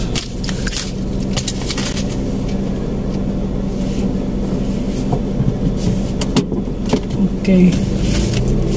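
A car is driven slowly in reverse, giving a low, steady engine rumble with knocks and clunks, while a person speaks briefly nearby.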